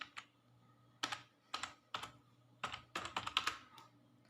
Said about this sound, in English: So I am going to type it.